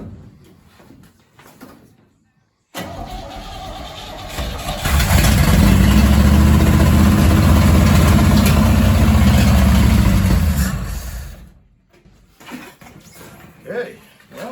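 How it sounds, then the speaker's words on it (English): A 1968 Chevy C10 engine with a previously locked-up motor, sitting for about 30 years, cranks and catches, then roars loudly and steadily for several seconds before shutting off, with voices talking faintly before and after. "Locked up engine, we got it running."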